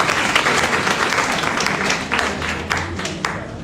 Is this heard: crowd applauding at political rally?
yes